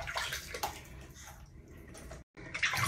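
Water poured over a child during a bath, splashing and running water in bursts, close and moderately loud, with one brief silent gap near the end.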